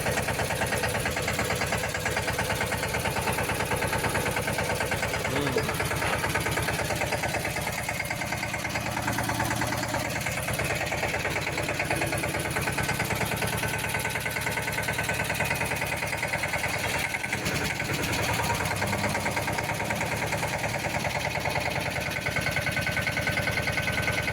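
A tractor engine runs steadily throughout, a constant loud mechanical drone with a low rumble and little variation, no voices.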